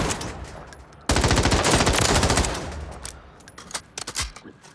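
Automatic M13 rifle fire in the Warzone video game, a loud sustained burst of rapid shots followed by a few shorter bursts and scattered single cracks.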